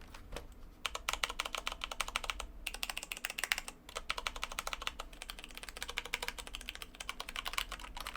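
Rapid typing on a mechanical keyboard with tactile switches, compared against Cherry MX Browns: dense bursts of sharp clacky keystrokes and thumps from stabilized keys such as the spacebar and shift, close and continuous with brief pauses.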